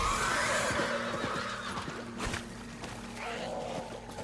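A horse neighs loudly in Diablo 4, a drawn-out whinny over a low game backdrop with faint hoof taps, no talk.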